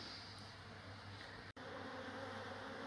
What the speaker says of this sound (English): so it is a new swarm